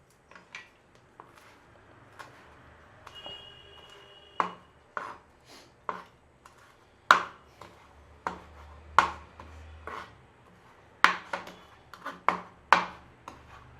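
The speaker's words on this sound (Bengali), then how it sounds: "পুদিনা পাতাগুলো কুচিয়ে নিই।" A knife chops mint leaves on a board in a run of sharp, separate taps, sparse at first and then quicker and louder, with no one talking.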